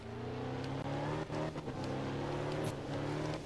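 Rally car engine in the video game art of rally, a loud, continuous drone that rises and falls in pitch with a few brief dips and surges, close and without talk.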